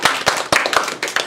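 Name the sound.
audience clapping to welcome speaker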